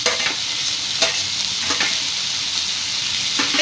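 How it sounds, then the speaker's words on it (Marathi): Ginger, garlic, chili, bell pepper and carrot sizzle and fry in a pan, stirred with a few sharp scraping strokes cutting through a steady, close hiss, with no voices. "हे सर्व आपण परतून घेऊया।"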